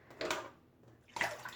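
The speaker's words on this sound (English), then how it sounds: "Rinsing off my razor blades." Razor blades rinsed in warm water before a head shave: two short splashing swishes about a second apart, quiet and close, with a lull between them.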